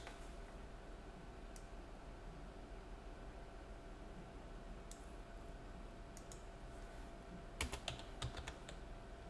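Sparse, faint keystrokes on a computer keyboard over a steady low hum, with a short flurry of clicks near the end and no talking.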